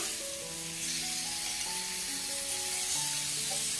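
Pineapple slices sprinkled with sugar caramelizing in a pan, a steady soft sizzle under faint tonal background sound, constant and close without talk.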